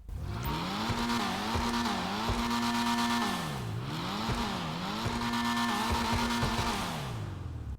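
An Annis Euros car in the GTA Online video game revs hard through repeated rising gears, its engine note climbing and dropping in waves with shift breaks and tire squeal, loud and close with no talk.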